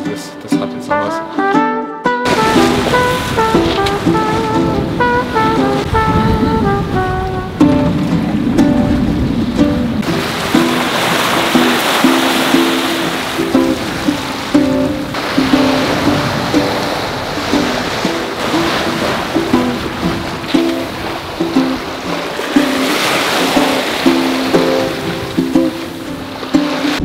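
A Sirius 310 DS sailboat runs through choppy water off Rügen, with constant rushing waves and wind noise throughout, overlaid by music.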